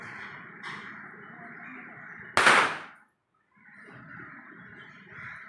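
A single sharp Diwali firecracker bang bursts loud and near, with a brief decaying tail and then a moment of silence. Background chatter and a steady high tonal hum surround it.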